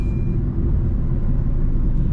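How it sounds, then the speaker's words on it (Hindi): A petrol Tata Altroz runs in power mode in fifth gear, producing a steady, heavy low engine and road rumble from inside the cabin with no talking. "तो पावर लेके देखते हैं जी। इको मोड को चेंज कर दूँ पावर मोड में।"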